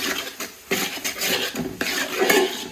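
Fried rice being stirred with soy sauce in a pan, giving repeated close scraping and clattering of a utensil against metal in an irregular rhythm with no voices.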